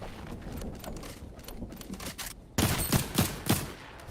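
Gunfire in a Fortnite match comes in rapid volleys, a muffled stretch followed by louder, punchy bursts of shots in quick succession near the end, with no voices.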